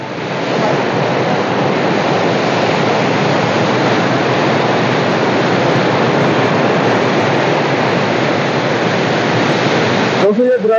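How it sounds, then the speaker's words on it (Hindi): Fast water from the Chenab River rushing through a canal at Qadirabad Barrage, a loud continuous roaring wash that stays steady and dense throughout, with no speech. "ये पानी कितनी स्पीड से आ रहा है इस तरफ,"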